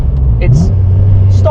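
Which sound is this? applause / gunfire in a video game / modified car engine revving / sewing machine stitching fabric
modified car engine revving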